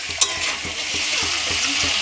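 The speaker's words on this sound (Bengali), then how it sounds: "চিকেনটা দিয়ে একটু নেড়ে ছেড়ে নেব" Chicken pieces sizzle in a hot pan while being stirred, a loud steady frying hiss with a sharp clink near the start and soft rhythmic scraping strokes, no voices.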